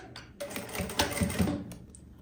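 Sewing machine stitching a quilted puffer tote bag, a short close run of rapid mechanical stitching with clicks and whirring that rises and then stops, with no voices.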